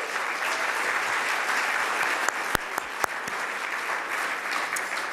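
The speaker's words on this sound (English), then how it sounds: "She deserves a real round of applause." A crowd gives sustained applause for the mayor of Washington at a gun-law event, an even wash of clapping with a few sharp, loud individual claps standing out near the middle.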